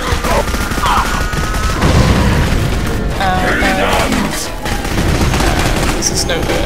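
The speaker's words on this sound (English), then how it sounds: "Everything's just exploding everywhere" Explosions and gunfire fill a firefight in Clive Barker's Jericho, with loud, dense blasts and bursts running almost continuously, and voices mixed in.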